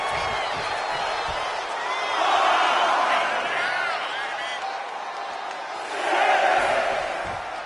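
Arena crowd in the WWE 2K25 wrestling game, a continuous roar of cheering that swells twice, with a commentator talking over it.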